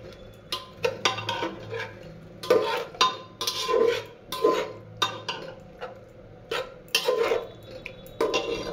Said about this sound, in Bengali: এবার আমি স্যুপের জন্য গরমে হালকা একটু মাংসটা নেড়ে জল দিয়ে দেবো।